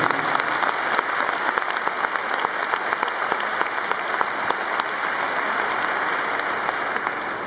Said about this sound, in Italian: Facciamoci un bel applauso adesso, sì.